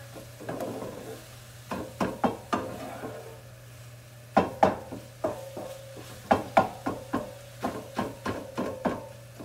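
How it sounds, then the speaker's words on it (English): A spoon knocks and scrapes around a pot of tomato pasta sauce for baked ziti in a rhythmic series of soft clacks over a low steady hum, with a faint simmering sizzle underneath. "giving this a little stir"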